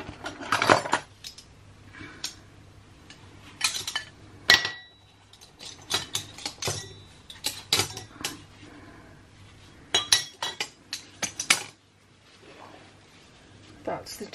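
Metal clinks and rattles as someone rummages through utensils for a teaspoon measure. The clinks come in scattered bursts, with someone speaking in between.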